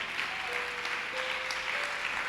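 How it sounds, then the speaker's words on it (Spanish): A church congregation claps steadily and fairly softly throughout, with faint sustained tones, likely from music, under the applause. "Alguien déle un aplauso bien fuerte."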